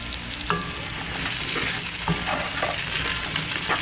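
Carrots, parsnips and turnips stirred in olive oil in a Dutch oven cooked outdoors, giving a steady close sizzle of frying with scraping, clattering stir strokes at irregular moments throughout.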